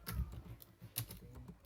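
Several quiet, close keystrokes tap on a computer keyboard as a calculator command is typed into the Windows command prompt, an uneven burst of clicks with no talking.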